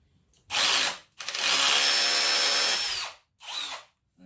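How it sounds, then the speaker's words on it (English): A power tool, likely an impact driver or drill, loosens the coolant drain plug on a dirtbike: two loud bursts of whirring, a short one and then a longer sustained run, followed by a brief third burst, close and without talk. "this is our coolant plug right here. So we're gonna loosen that."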